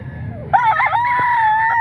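A Boston Gilmore gamefowl rooster lets out a loud, close crow that rises and holds, over clucking and other roosters in a market setting.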